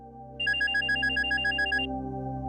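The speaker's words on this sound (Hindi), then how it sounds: "इसका फोन आ गया" A mobile phone ringtone sounds, a bright electronic repeating chirp pattern that starts abruptly, rings loud and clear for about a second and a half, then stops over a low steady background hum.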